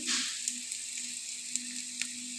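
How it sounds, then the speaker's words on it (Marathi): Onion frying with a ground paste of tomato, garlic, coconut and coriander, a soft continuous sizzle with a brief louder hiss at the start and a few light ticks of stirring. "थोडा आपला कांदा भाजून झाला ना, मग आपण त्यामध्ये घालूया वाटण"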